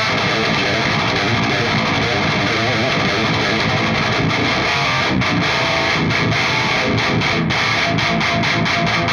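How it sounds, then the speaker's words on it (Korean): A heavy, distorted electric guitar tone runs through a Two Notes Torpedo C.A.B. M+ pedal with basement reverb, played as dense chugging riffs that are loud and continuous, with no talk. "리버브 프리셋을 이번에는 베이스먼트로 해보겠습니다"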